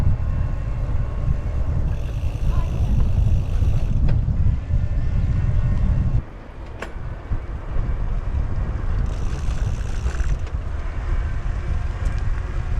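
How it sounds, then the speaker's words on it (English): Haibike sduro Trekking S 9.0 e-bike with a Bosch motor under way, giving a steady broadband drone and whir with wind buffeting, a brief dip midway, no talk. "Most of the noise you hear is from the motor."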